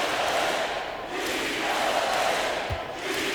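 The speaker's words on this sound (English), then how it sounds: "They got a big lift from their crowd tonight, giving them the energy they needed" A dense arena crowd in NBA 2K25 roars and cheers in a steady, broad wash of sound, with a faint voice underneath and a brief thud near the end.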